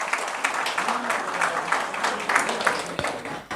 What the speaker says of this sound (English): A big round of applause for Ramesh sir.